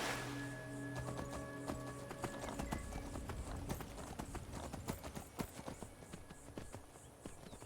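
Rhythmic hoofbeats clatter steadily throughout, a horse in the video game Skyrim moving at pace over a busy, dense background with occasional sharper knocks.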